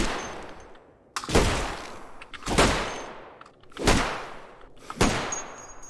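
Four loud gunshots from a firearm in the survival game Cataclysm: Dark Days Ahead, each a sharp broadband crack with a decaying tail, spaced about 1.3 seconds apart with no talk.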